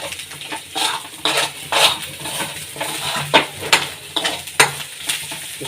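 Ground almonds stirred and roasted in a pan for a homemade cold and cough remedy, with repeated scraping strokes and light sizzling, close and fairly loud, no talking.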